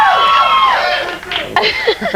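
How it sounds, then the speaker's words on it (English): A television studio audience cheers and laughs loudly. The crowd noise swells at first, then thins into scattered laughter and chatter. "They just want to hear the applause later on TV."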